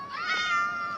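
A cat gives a single drawn-out, tonal meow close by while begging for fish.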